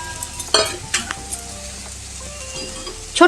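Hilsa fish head and tail dropped into a hot frying pan with taro greens, giving a steady sizzle with a few sharper bursts of spattering and stirring clatter.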